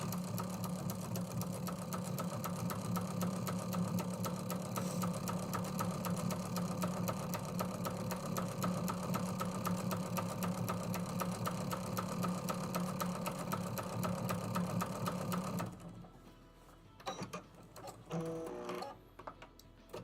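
A sewing machine runs a fast, even stitch for about fifteen seconds while quilting around the edges of a fabric piece in square patterns, then stops, leaving a few soft handling clicks.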